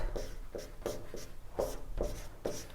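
Pen strokes scratch across paper while a maths solution is written out, a series of short close rubbing bursts in an uneven rhythm with no talk.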